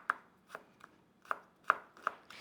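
Garlic cloves are chopped with a knife on a cutting board, sharp distinct knocks in an uneven rhythm, about seven strikes, close and clear with no talking.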